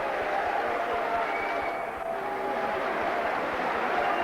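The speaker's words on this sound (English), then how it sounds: "Crowd very, very appreciative of what they're witnessing here." Steady, sustained applause and crowd noise fill a boxing arena after a round, a broad continuous roar with no single voice standing out.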